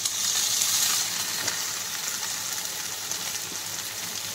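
Chicken 65 pieces fry in a pan with soy, tomato and Schezwan sauces, giving a steady, moderately loud sizzle with soft stirring sounds and no talk.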